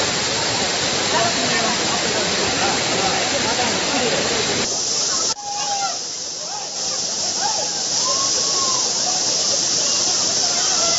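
Water pours down Courtallam Falls, a loud, broad hiss and roar of cascading water that stays continuous, with a brief dip midway before the rush resumes.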